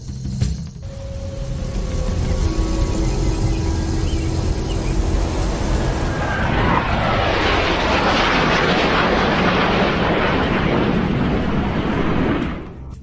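Two fighter jets pass overhead. A distant whine swells into a loud, broad roar that holds for several seconds, then drops off abruptly.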